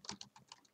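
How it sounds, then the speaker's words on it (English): Computer keyboard keys are pressed in a quick irregular run of about six or seven faint clicks at close range, with no voices. "Just press random keys on your keyboard"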